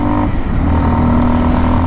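A Kawasaki KLX 230 dirt bike engine drones steadily and loudly while riding on highway and mountain roads, its low, even rumble continuous and close with no voices over it.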